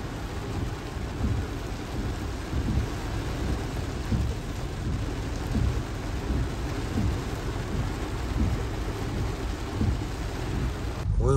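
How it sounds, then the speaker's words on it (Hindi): Heavy rain pours down steadily through a thunderstorm in Lahore, a dense continuous roar of downpour with low rumbling thunder rolling underneath, loud and unbroken throughout with no speech. "अल्लाह खैर करे, बारिश हो ही बहुत ज्यादा रही है।"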